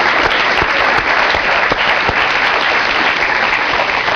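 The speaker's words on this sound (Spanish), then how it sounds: "Un aplauso a Carlos Álvarez y a Jorge Benavides." Steady, loud audience applause from a live studio crowd on a Peruvian political satire TV show, dense clapping holding for about four seconds with a few sharper claps standing out.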